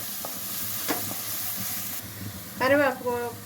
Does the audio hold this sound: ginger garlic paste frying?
yes